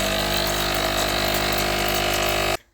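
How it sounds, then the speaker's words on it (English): The steam wand of a Sage Barista Express runs during descaling, a loud steady hiss and pump drone for a few seconds that cuts off abruptly to near silence. "the way to descale is you turn it over to the steam here"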